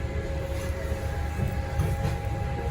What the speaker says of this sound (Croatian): Ali ovo je onaj klasični pariški metro.